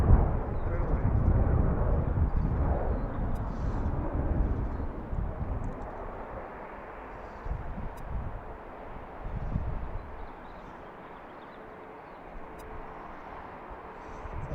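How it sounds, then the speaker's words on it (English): A Delta airliner taxis out toward the departure runway at BWI on an April afternoon, a distant low jet rumble and whine that is louder at first and then eases off, with brief faint voices. "Looks like Delta's coming out to the departure runway."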